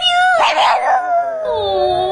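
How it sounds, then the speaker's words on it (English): Dogs howl in a played-back recording, a long wavering howl rising and falling with a brief yipping burst near the start, fairly loud and close with no talk over it. "These are dogs now."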